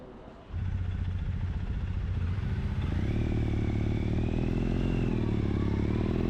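Triumph Bonneville motorcycle riding on a road near Torquay, engine starting low then swelling into a loud steady rumble with rising revs and wind noise, running continuously without talk.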